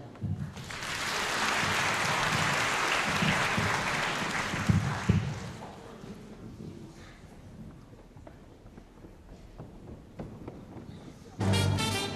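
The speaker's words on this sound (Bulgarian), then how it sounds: "Специални аплодисменти за нашите приятели, дето ги няма" A concert audience applauds its absent friends, a dense burst of many hands that swells for about five seconds, then fades into scattered claps and murmuring before a sharp noise near the end.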